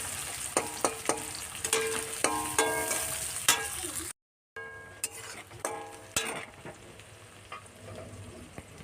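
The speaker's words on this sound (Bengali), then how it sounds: "দুটো বড় সাইজের পেঁয়াজ কেটে রেখেছিলাম, দিয়ে দেব। দিয়ে লাল করে ভেজে নেব" Sliced onions and black cumin seeds frying in hot oil in a pan for a Bengali fish curry, a steady sizzle broken by repeated scraping stirs of a spatula, close up, with a short silent gap midway.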